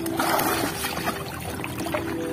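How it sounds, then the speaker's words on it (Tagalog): Water scooped out of the inside of a boat at sea off Mindoro with a hand bailer, splashing and trickling in a steady wet wash with small pours and drips, no voices over it. "So kukunin natin ating salok para salukan yung loob."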